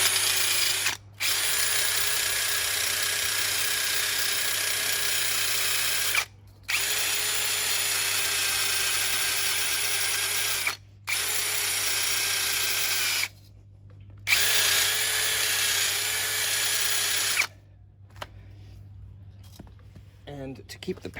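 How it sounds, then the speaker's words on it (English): A powered wire brush scours rust from the channels of a 2013–2016 Ford Escape rear brake caliper bracket in long, loud, whining bursts with short pauses between them. A voice speaks briefly near the end. "So I'm just going to use a wire brush."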